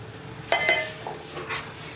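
A metal dhokla plate handled while being greased with oil gives a few short, bright metallic clinks and knocks, two close together and one more a moment later, with no talking.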